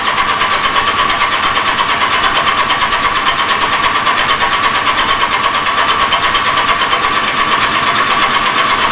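A small engine runs steadily at a high, buzzing pitch in a workshop, loud and close throughout with no pauses.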